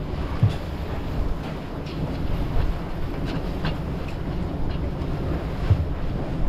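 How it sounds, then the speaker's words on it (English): Steady broadband wind noise on a sailing boat at sea, a continuous roar and buffeting against the microphone with no speech. "wind's calming."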